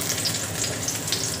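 Garlic and onion sautéing in a hot pan for chicken feet, a close, steady oily sizzle with crackling pops, alone without talk.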